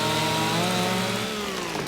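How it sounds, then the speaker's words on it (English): A chainsaw in Farming Simulator 25 runs steadily and loudly, its engine drone holding an even pitch with a bright buzzing whine, then easing slightly toward the end. "I do dislike that you can't run with the chainsaw out."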